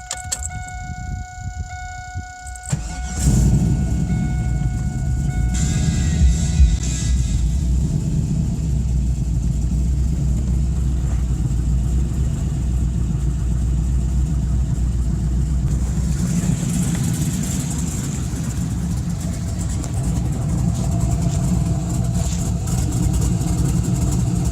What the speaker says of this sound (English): here's a video of the car running